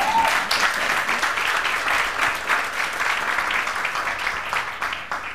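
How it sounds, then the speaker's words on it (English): A lecture audience at a university campus forum in western Jamaica claps steadily for a finished presentation, a dense, even round of applause lasting several seconds that eases slightly toward the end. "I think that you need an absolute round of applause"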